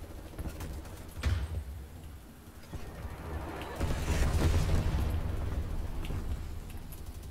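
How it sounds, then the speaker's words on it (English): A grenade blast in Call of Duty: Cold War on the Nuketown map: a sharp boom early on, then a louder, rolling detonation with a lingering rumble under other game noise. "Grenade across the way."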